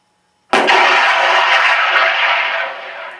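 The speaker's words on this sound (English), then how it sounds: "Firing of rockets." A rocket-firing effect from an A-1 Skyraider sound mod, bursting in loudly after a moment of silence and then roaring as a broad, sustained rushing blast that slowly fades over a few seconds.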